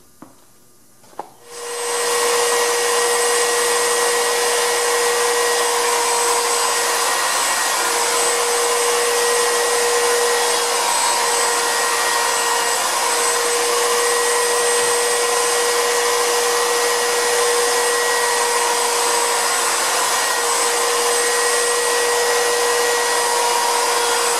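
A handheld wood router starts with a click and spools up to a loud, steady high whine, holding constant for over twenty seconds as edges of wood pieces are broken over, with slight dips where the cutter bites.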